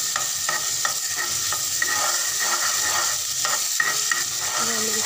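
Garlic and ginger paste frying in about two spoons of oil in a pan, a steady close sizzle with repeated scraping stirs throughout, no talking.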